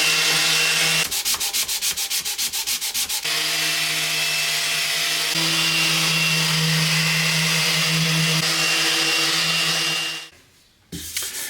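Steady, loud drone of an electric sander working an Ercol wooden furniture piece, with a brief rapid pulsing stretch early on, cutting off near the end.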